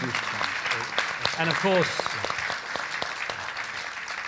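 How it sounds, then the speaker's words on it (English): Audience applause closing a panel discussion on cities of tomorrow, a broad crackling wash of clapping running under a speaking voice throughout. "A big round of applause, please, for the panel."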